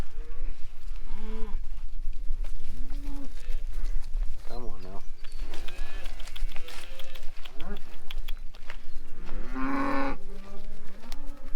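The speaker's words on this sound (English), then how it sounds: "Cows are ready to move." Grass-fed cattle moo repeatedly as they are moved, several animals calling near and far in long drawn-out lows, while a person speaks briefly among them outdoors.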